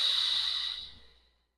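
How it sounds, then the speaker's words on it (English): A single long exhale through pursed lips during a Pilates mat breathing exercise, a close, airy hiss that holds steady and then tapers away to silence. "On your exhale, breathing out through those pursed lips."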